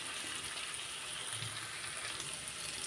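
Onions frying in oil in a pan give off a faint, steady sizzle that hisses evenly throughout, with no voices.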